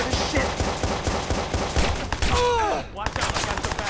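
Rapid SMG gunfire in the Watch Dogs video game on PS4, dense loud bursts of shots running almost continuously, with a brief whooshing sweep near the end before firing resumes.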